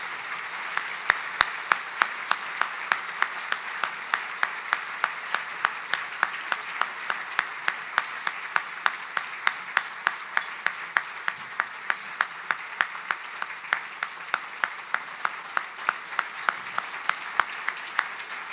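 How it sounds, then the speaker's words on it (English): Sustained audience applause fills a gala hall for the Myocarditis Foundation, dense and steady throughout with individual sharp claps standing out near the front. "join me in a round of applause for their courage during such a challenging"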